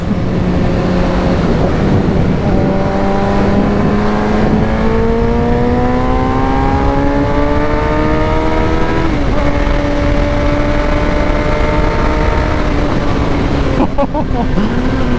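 A naked sport motorcycle accelerates hard through the gears, the engine note climbing in pitch and dropping at each shift, loud and close with constant wind roar throughout.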